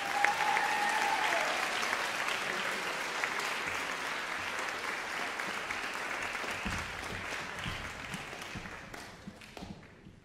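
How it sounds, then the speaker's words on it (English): Sustained audience applause for the members of a junior and senior high school concert band, steady and full for about ten seconds before fading, with a few louder claps near the end. "Let's give them a big round of applause."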